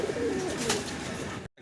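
A pair of grey barless racing pigeons cooing at a fancy pigeon seller's, a close, continuous low coo over a busy background that ends abruptly.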